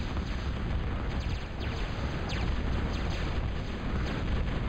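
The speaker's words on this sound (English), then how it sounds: "here comes the bombing run from Rock" Bombing run in the real-time strategy game Total Annihilation, a dense, continuous wash of rumbling explosions and crackling blasts that stays loud and steady throughout, with no talk over it.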